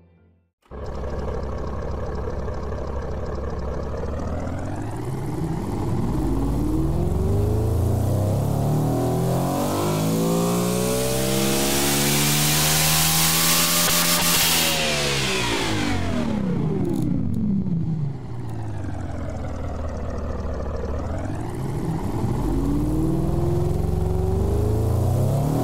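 Powerful car engine in BeamNG.drive revving hard, a loud roaring climb in pitch to a screaming peak, dropping away, then rising again, sustained and close with no voices.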